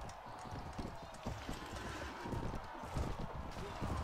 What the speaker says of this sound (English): I need to get on this horse.